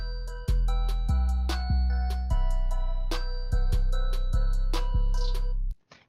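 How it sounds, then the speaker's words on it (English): A basic trap snare pattern plays within a dark ambient beat, sharp snare hits falling in an irregular rhythm over sustained low synth tones, fairly quiet and with no talking. "So I want to add the snares now."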